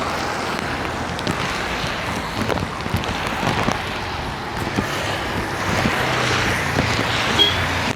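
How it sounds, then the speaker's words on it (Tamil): Steady rain falls in the hill country of Munnar, a dense, even hiss with scattered louder drops and some wind buffeting, continuous and fairly close with no talk. "இந்த மழைலாம் ஒன்றும் பண்ணாதுங்க."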